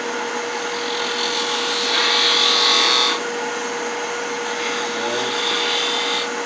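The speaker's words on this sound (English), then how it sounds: "I'm going to come back in with that detail gouge again for that V" A detail gouge cutting a V into spinning wood on a lathe for a turned Roman-style flask, a steady motor hum and whine under a brighter scraping hiss that swells for a second before easing off.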